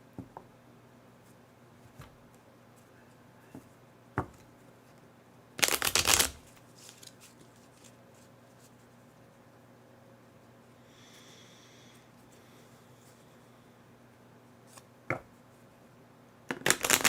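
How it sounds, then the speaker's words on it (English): A deck of flower cards is shuffled in a few short crisp riffling bursts, separated by long quiet stretches with faint clicks and handling noises. "pull a flower card for y'all"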